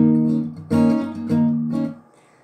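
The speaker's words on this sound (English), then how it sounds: "That makes it sound more thumpy, more bassy" Palm-muted strumming on a guitar playing a chord intro: several short, thumpy strokes with a deep, bassy tone and a quick fade at the end, played alone.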